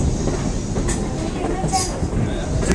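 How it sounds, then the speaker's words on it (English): Passenger train rolling steadily along rails in Amish Country, a continuous loud rumble with faint clatter throughout and no talk. "If you're wondering about the speed of our train today"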